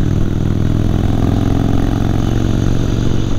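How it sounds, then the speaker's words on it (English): A motorcycle engine runs loud and close with a steady rumble, wind roaring over it as the bike rides along. "I love this motorcycle."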